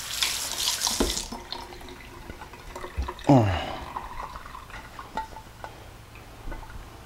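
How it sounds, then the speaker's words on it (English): A plate rinsed under a running kitchen tap, a short burst of splashing water at the start followed by clinks and scrapes of dishware and brief sink sounds, with a voice partly audible. "I'm gonna rinse my plate off."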